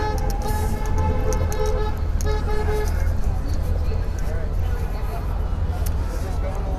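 Car horns honk in stopped traffic near a march heading to a park vigil in Kansas City, Missouri, with several sustained toots over a constant street rumble and crowd noise.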